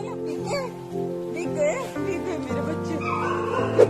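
Stray dogs bark, yip and whimper indoors over a continuous musical background, several animals close by with short excited calls scattered throughout.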